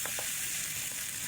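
Garlic and onion sauté in a pan with a brief, even, close-up sizzle and faint crackle, and no one speaking.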